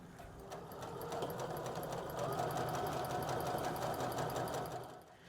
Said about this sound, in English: we're gonna sew again here at a 3/8 inch seam allowance. So just make sure you sew a nice straight seam all the way down